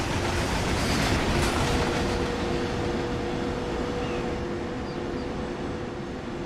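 A train rolls past in the Train Sim World 2020 simulator on the Main-Spessart line, a steady loud rumble of wheels on rail with a low hum throughout, slowly easing off toward the end, with no voices.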